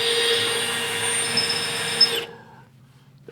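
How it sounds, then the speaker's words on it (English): A power drill with a dull bit bores holes for fasteners during installation of an LS Fabs gas tank filler, whining steadily for about two seconds before cutting off abruptly into near silence. "That drill bit is dull."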